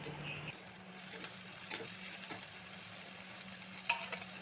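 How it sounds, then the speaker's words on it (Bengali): Thinly sliced potato frying together with chopped onion in hot oil, a busy close sizzle running throughout with a couple of sharp utensil knocks against the pan, no speech. "ভাজা পেঁয়াজের মধ্যে দিয়ে দিচ্ছি ঝিরিঝিরি করে কেটে রাখা আলু।"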